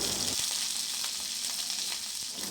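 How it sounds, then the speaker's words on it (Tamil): Curry leaves sizzle in hot oil while cooking a Tamil sword bean poriyal, a steady close crackling hiss with small pops throughout and no talking. "எண்ணெய் நல்லா காஞ்சிச்சு. இதில் கருவேப்பிலை சேர்த்துக்கலாம்."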